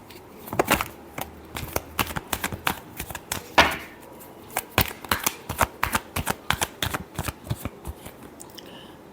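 Tarot cards being shuffled by hand in quick, crisp riffling bursts, a dense run of close, sharp flicks and snaps with brief pauses between, heard alone without talk.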